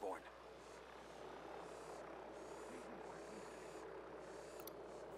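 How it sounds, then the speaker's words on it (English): Surveillance drone in Ghost Recon Wildlands whirring with a steady, high buzzing drone, held at an even level, with faint low hum underneath. "Drone is airborne."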